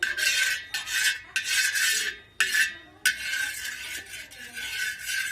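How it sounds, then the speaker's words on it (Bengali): Hot oil is stirred in a pan on a sunny rooftop in 43-degree heat, with repeated close rasping scrapes of a utensil against the metal in an uneven rhythm, no talking. "আমি একটু তেলটা নাড়া দিয়ে যাই"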